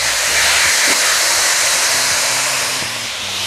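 Cabbage hits a hot pan in a plant-based rice paper dumpling recipe, setting off a loud, steady wash of close sizzling hiss that holds for a few seconds before easing slightly.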